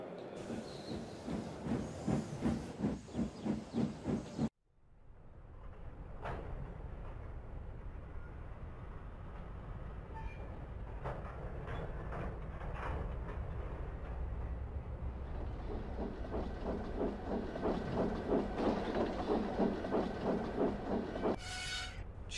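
Steam locomotive hiss in a Sodor railway animation, a steady broad hiss with rumbling, continuing for about eighteen seconds after a sharp cut from an earlier burst of sound.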